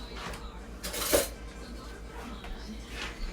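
A metal spoon clinks against a cooking pot of seafood Creole during tasting, one sharper clink standing out amid quieter scraping and kitchen background.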